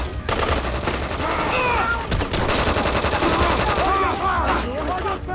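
A burst of gunfire in a tribal war in Africa: rapid repeated shots crackle loudly and continuously, mixed with shrill cries and a dense noisy background.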